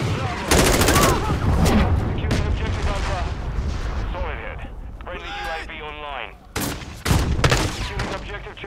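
Dense gunfire and explosive blasts from a Call of Duty Modern Warfare 2 multiplayer match, loud bursts and rattling shots continuing throughout with a brief lull mid-way, while a player talks over the action.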